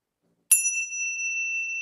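A single bright bell ding marks the end of a contestant's time at the Miss Philippines Earth 2021 prejudging, struck once and left ringing with a clear, sustained metallic tone in an otherwise quiet room.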